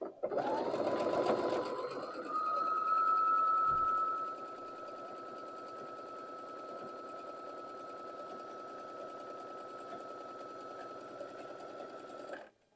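Domestic sewing machine stitching a half square triangle quilt block, a close, steady rapid whir that runs continuously, briefly louder at the start and then holding an even hum before stopping at the end.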